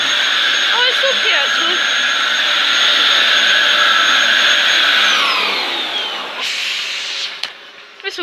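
A Dyson DC07 vacuum cleaner fitted with a new filter runs with a loud, high whining roar that stays steady, then drops and tapers off near the end as it is switched down.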